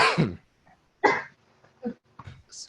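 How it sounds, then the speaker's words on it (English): Several short, harsh coughing bursts from more than one person, spaced apart with brief quiet gaps, close to the microphone. "wow, both of us are just coughing"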